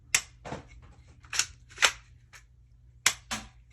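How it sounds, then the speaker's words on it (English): A 3D-printed Ninja String Shot foam blaster from Frantz Foam Works, fired in a series of sharp, close snapping shots with short irregular pauses, no talking. "Giving the Ninja string shot a try."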